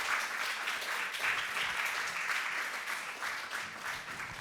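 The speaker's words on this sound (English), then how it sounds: "A round of applause for Teresa Lola" Sustained applause from an audience at a poetry slam, a dense steady wash of many hands clapping at even loudness for the whole stretch, with no voices over it.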